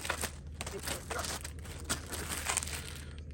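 Close plastic bag crinkling and rustling in short bursts, fairly quiet, with no talking.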